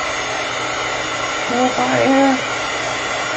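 A blow dryer whirs steadily to dry off chicken, a constant close airy drone, while a person speaks briefly over it partway through.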